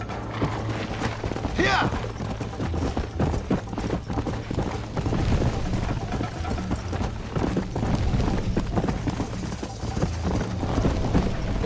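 Horse hooves in the western video game Red Dead Redemption: a steady, rhythmic clip-clop of a horse at a trot carries on throughout, mixed with game ambience while someone talks over it.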